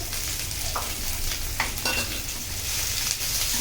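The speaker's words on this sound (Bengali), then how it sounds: "এবার এইগুলো ভালোভাবে নাড়িয়ে নিচ্ছে।" Shrimp with chili being stirred in a hot pan for a curry with Malabar spinach: a continuous hiss of frying, broken by a few quick scraping strokes of the spoon, close and unaccompanied by speech.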